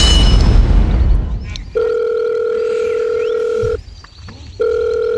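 An outgoing telephone call rings back with steady, loud electronic tones, two long rings separated by a short pause, after a burst of noisy handling at the start.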